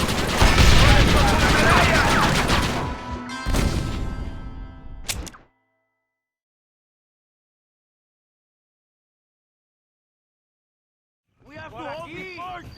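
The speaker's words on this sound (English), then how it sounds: "Use one of the cannons!" Cannon fire booms out at a fort in the video game Red Dead Redemption: a loud dense volley of blasts and thuds for several seconds, then a few separate bursts, a long silence, and a shorter burst at the end.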